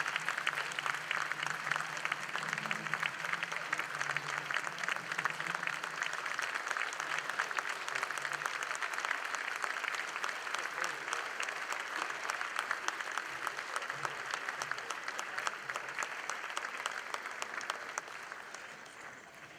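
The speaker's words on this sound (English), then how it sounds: "Let's give Tony one more round of applause." Sustained banquet audience applause at a Thibodaux Chamber of Commerce awards dinner, a dense, steady wash of many hands clapping close by for nearly twenty seconds, with faint voices murmuring underneath before it begins to thin at the end.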